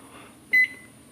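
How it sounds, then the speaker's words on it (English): A digital kitchen timer being set while yeast roll dough mixes gives one short, clear, high beep, close by, over a faint steady kitchen hum. "Let me set my timer."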